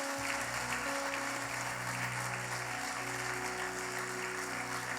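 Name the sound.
congregation applauding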